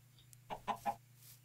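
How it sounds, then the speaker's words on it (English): A chicken in the Minecraft video game clucks three short times in a quick, even burst, quiet and close over a faint steady hum. "I hear clicking. Is that the chicken?"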